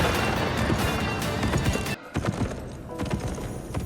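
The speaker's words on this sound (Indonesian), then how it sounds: "terlihat Mikian yang sedang menunggangi kuda" A ridden horse's hooves clip-clop in a quick, loud series of sharp knocks, with a short pause midway before the hoofbeats resume.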